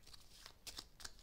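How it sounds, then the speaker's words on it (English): A deck of playing cards is shuffled close by, several quick riffling bursts in an uneven rhythm over about a second, soft and crisp in a quiet room. "let me shuffle the cards"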